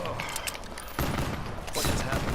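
Rapid gunfire crackles in Call of Duty: Black Ops III zombies mode, dense bursts of shots filling the moment, with players' voices mixed in underneath.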